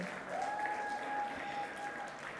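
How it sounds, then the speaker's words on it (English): An awards ceremony audience applauds, a faint, distant, steady wash of clapping that carries on throughout, with a thin tonal whine running over it. "can you guys give yourself a round of applause just for the vision?"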